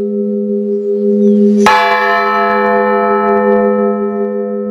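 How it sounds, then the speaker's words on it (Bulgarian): A village belfry bell is struck once, loud and close, sending a bright clang over a steady ringing drone from other bells that hum on throughout with no voices. "Камбания звън става характерна черта в живота на общинниците."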